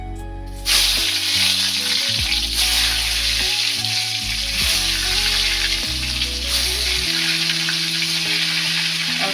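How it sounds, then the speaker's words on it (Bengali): Eggplant slices fry in hot oil, a dense, steady sizzle with bubbling crackle that holds loud and close throughout, with no voices. "এখন বেগুনগুলো সব ভেজে নেব।"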